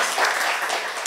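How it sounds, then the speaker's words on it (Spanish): Audience clapping at a Spanish-language academic book presentation, a short burst of dense applause, steady and fairly loud. "pido un fuerte aplauso"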